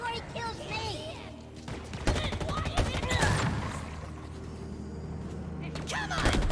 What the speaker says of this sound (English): I'm a really big fan of the assault rifle in this game